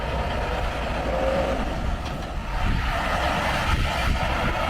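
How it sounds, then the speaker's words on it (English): A heavy tank truck climbs a grade with a steady, loud engine drone and road rumble throughout, no talking over it. "There's a tank truck coming up here."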